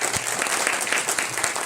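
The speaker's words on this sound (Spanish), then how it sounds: "Un aplauso para Eloísa." A lecture audience in Argentina breaks into loud, dense applause for a guest speaker on human rights, many hands clapping together in a full, sustained burst.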